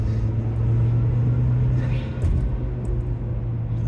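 Engine drone inside the cabin of a 2009 Acura RDX in 3rd gear at about 3,200 RPM on an off ramp, a steady low hum with road rumble and a voice talking over it.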